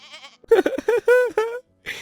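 A pet billy goat bleats several times in a row, loud and close, with short wavering cries separated by brief pauses and a final shorter call after a gap.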